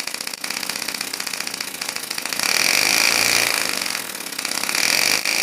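A small compressed-air engine running at about 4,500 RPM with a fault giving no added power, a buzzy, rattling mechanical drone, surging louder in the middle and again near the end, with no talking.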